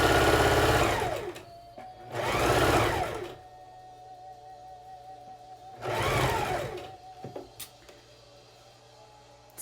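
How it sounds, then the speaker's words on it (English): Sewing machine stitching a quarter-inch seam along a face mask strap, running in three loud whirring bursts of about a second each, separated by quiet pauses with faint clicks of the machine. "start sewing a 1/4-inch seam all the way top and bottom of the strap"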